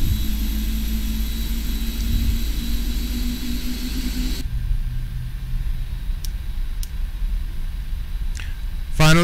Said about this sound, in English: And here we have engines 1 and 2 firing off.